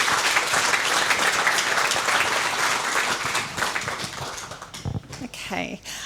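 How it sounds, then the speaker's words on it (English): An audience gives a round of applause at a talk, a dense, steady clapping that fills the room and then thins and tapers toward the end, with scattered claps and a little voice noise as it dies away. "I think we should give you a round of applause."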